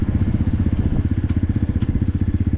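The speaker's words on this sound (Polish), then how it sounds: "Nie szarpie, równo praca silnika" A Diabolini Cross MMR 250 motorcycle, fresh out of the box, runs close by with a loud, steady, rapidly pulsing engine thrum that holds an even rhythm throughout.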